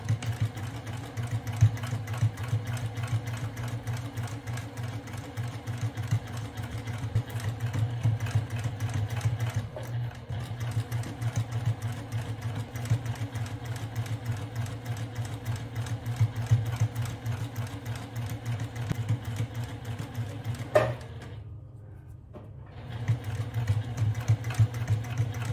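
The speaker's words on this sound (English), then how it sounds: "we're going to take it to the sewing machine" A sewing machine runs steadily while top-stitching fabric around a tote bag, a continuous droning whir with a fast mechanical needle rhythm, briefly pausing near the end before resuming.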